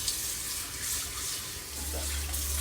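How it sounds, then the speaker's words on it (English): Tap water runs steadily into a kitchen sink while mixing bowls are washed, a continuous hiss and splash that grows fuller near the end as the flow strengthens. "Wash these bowls."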